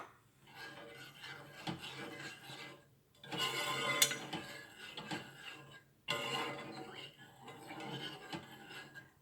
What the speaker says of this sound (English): You stir it.